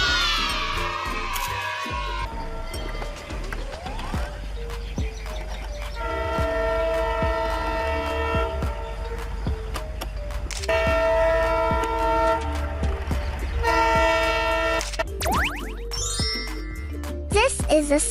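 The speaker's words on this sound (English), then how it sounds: "This is a double-decker train." A double-decker commuter train rolls past with a loud rumble, a horn sounding in sustained tonal blasts several times and a jingling bell over the rail noise.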